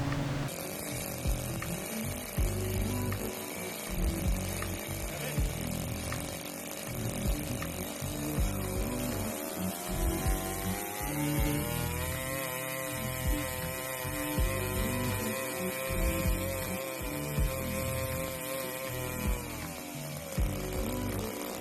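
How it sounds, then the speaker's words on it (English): A small 4-stroke single overhead cam model engine of about 7 to 8.6 cc runs on gasoline in a shop, a steady buzzing drone that rises sharply in pitch partway through, holds high, then drops back down. "We got this little engine to run. This is a nitro version. This is our gasoline version."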